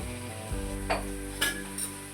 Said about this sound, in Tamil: இப்போ தக்காளி போட்டுக்கிறேன். தக்காளி போட்டு நல்லா வதங்கட்டும்.